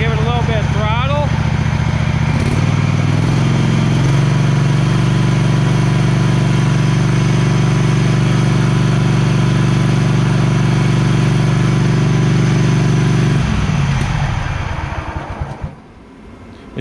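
A Scag V-Ride stand-on mower engine runs loud and close, its note rising as the throttle opens, holding a steady drone, then winding down and cutting off near the end.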